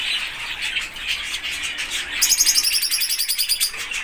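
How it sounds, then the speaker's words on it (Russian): Parrots and canaries in a bird shop give a steady mix of chirps and tweets, then a fast run of bright, rhythmic trilling song rises over the chatter near the end, with no talking. "я попала в царство попугаев"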